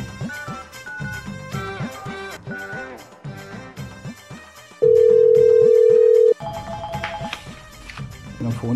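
A single steady electronic telephone tone sounds for about a second and a half during a call being placed, cutting in loudly over background music that plays before and after it.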